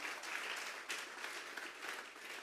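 Applause from a congregation at a Sunday church service, a continuous crowd of clapping hands with small swells in intensity, no voices breaking through.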